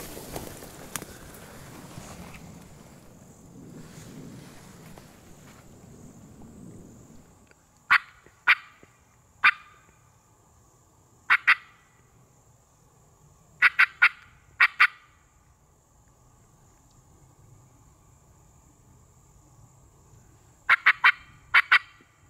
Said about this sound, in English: Let's let him gobble again on his own.